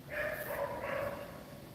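A dog barks indoors, two or three faint, short yipping barks in quick succession, rather distant and quiet.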